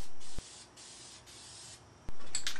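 An aerosol can sprays gray primer onto a bicycle frame in loud hissing bursts, several sustained sprays separated by short pauses, close and alone.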